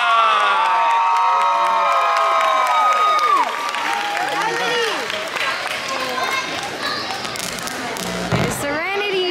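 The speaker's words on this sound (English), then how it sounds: "Please make some noise for Cheer" A crowd cheers and claps loudly for a children's cheer team at a showcase, with excited shouts and whoops layered over applause, easing slightly midway before a final burst; children's voices ring out near the end.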